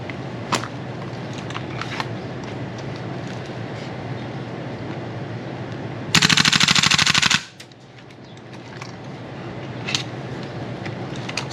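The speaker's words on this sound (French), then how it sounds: "je tire le fusil en automatique" A ViperTech M733 rifle fires a single long full-auto burst of rapid, evenly spaced shots, loud and close for about a second. Quieter mechanical noise surrounds the burst.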